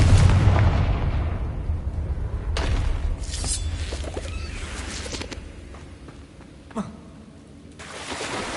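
A Confringo spell explosion in Hogwarts Legacy, a heavy boom with crackling bursts that fade over several seconds, followed by a lone sharp pop and a softer rumble near the end.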